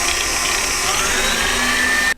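An electric mixer whisks eggs into creamy cake batter for a chocolate and pineapple gateau, giving a steady, fairly loud motor whir that cuts off sharply at the end.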